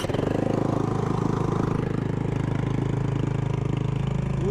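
A small boat outboard engine idling just after starting in a fishing harbor, a steady close rhythmic putter holding evenly throughout.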